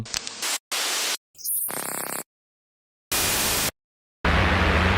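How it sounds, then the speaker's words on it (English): Harsh white noise from an Arturia Pigments software synthesizer switches on and off in abrupt blocks, with silent gaps between hissing bursts of varying tone. "we'll go back to white noise. That's the basic."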